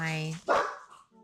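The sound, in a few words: dogs barking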